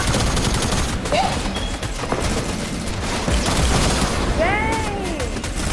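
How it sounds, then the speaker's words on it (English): Rockets exploding in the Fortnite video game, a dense barrage of blasts and crackling bursts that runs without a break, with people talking over it. "it's a lot of rockets"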